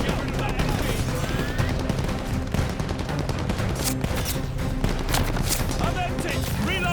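MG-42 machine gun fire in Call of Duty Vanguard, a loud, continuous battlefield barrage of rapid shots and blasts, with shouted voices mixed into the din.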